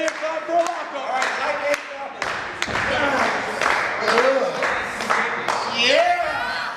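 Wrestlers slap their hands together in sharp, scattered claps before locking up in the ring, with people talking throughout.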